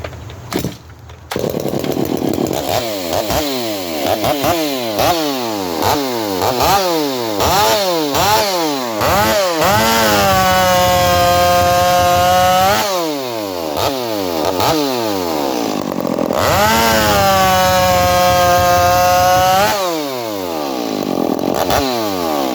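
A chainsaw running a freshly ground Husqvarna chain, straight off the grinder, cuts through wood, loud and close. It revs up and down repeatedly, then settles into two long, sustained full-throttle cuts.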